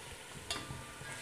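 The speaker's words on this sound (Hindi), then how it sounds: "टमाटर को अच्छी तरह गलने तक इसी तरह फ्राई होने" Chopped tomatoes fry in a pan for a basa fish biryani, giving a faint, steady hiss of sizzling with a brief louder crackle partway through.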